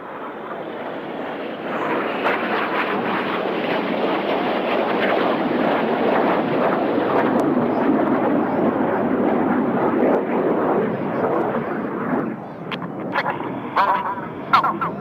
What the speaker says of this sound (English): flying his jet only 8 feet away from Red 6, but doing it while he's upside down